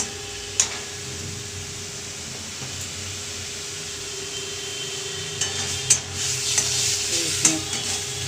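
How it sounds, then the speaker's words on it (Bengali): Onion and spices fry in a pan with a steady low sizzle, broken by a few sharp clinks and scrapes of a spoon stirring, close by and with no voices. "পেঁয়াজটা ভাজা হয়ে এসেছে মশলাটা।"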